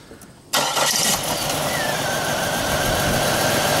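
A 2000 Pontiac Bonneville with a misfire on cylinder 3 cranks briefly, catches and settles into a loud, steady idle with an uneven roughness, close by and without talk.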